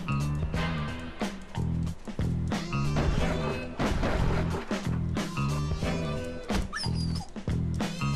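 In the Bully video game, a dog barks and whimpers amid loud background music and crashing, thwacking impacts, the yelps and whines mixed densely with the game's soundtrack.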